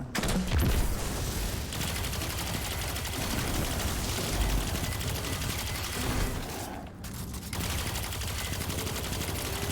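Continuous loud gunfire in Destiny 2 aimed at a servitor in the Exodus Garden 2A lost sector, a sustained rattling barrage with one brief pause near the end.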